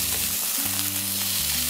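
German and Hungarian sausages frying in a pan, giving a steady, close sizzle with a broad crackling hiss throughout and a faint hum underneath.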